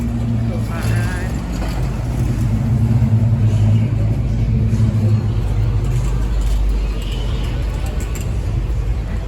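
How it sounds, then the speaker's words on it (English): A hot rod engine rumbles past at a beach car show, a steady loud low drone that swells through the middle and fades, with voices and crowd noise around it. "cool hot rod."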